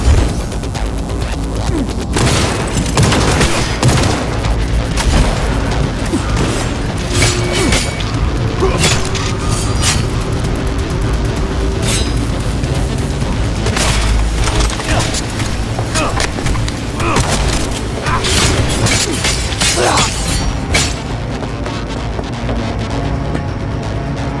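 Gunfire in the video game Cyberpunk 2077 comes as loud, dense bursts of shots and booms, with mechanical clatter, crashes and shouted voices mixed in.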